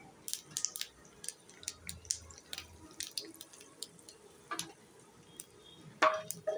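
Panch phoron and asafoetida crackle and spit in hot oil after bitter gourd has been fried, giving sparse, sharp pops and ticks over a faint background hiss, with a couple of louder bursts near the end.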